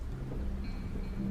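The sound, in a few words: heavy rain with thunder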